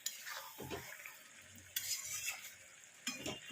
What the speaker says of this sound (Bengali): এবার আমি একটু ভালো করে এরকমভাবে কষিয়ে নেব। খুব হালকা হাতে কষাতে হবে, কারণ মাছের মাথাটা যেন বেশি ঘেঁটে না যায়।